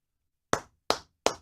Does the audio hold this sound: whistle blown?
no